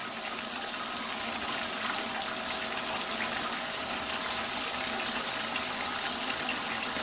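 Steady hissing spray of water from a pump sprayer runs continuously at an even level, with no voices.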